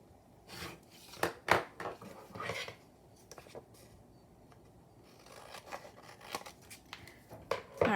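Scissors snipping paper for fairy journal pages, a handful of close, sharp cuts in quick irregular bursts with quieter rustling between.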